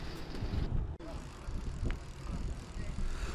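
Bicycle riding through warm wind on an outing in Tuscany, with steady wind rush and rolling road noise, a brief dropout near the start and a faint click, moderately loud and continuous.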